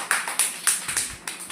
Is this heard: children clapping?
yes